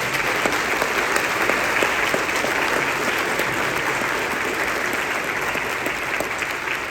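A concert-band audience applauds steadily and loudly to welcome the band's founder at a community band holiday concert, a continuous wash of clapping with no talking.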